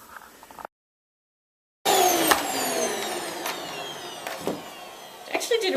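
A Panasonic Jet Force bagless upright vacuum starts up after a brief silence and runs loud and close, its motor whine steady, with a few sharp clicks and rattles as it picks up Christmas tree needles from a bare floor.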